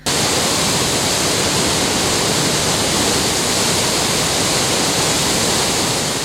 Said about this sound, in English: here comes the falls, the Murchison Falls